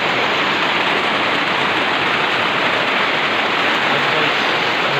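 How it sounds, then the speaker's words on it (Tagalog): Heavy rain falling near a rural hut, a loud, even, continuous hiss of downpour with no speech. "Ayan po guys, malakas ng ulan guys."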